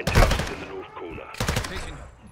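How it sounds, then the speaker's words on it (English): Gunfire in the Modern Warfare 2 campaign, a burst of loud automatic shots at the start followed by a second volley a moment later, mixed with game sounds and some voice. "They shot. That gunfire alert."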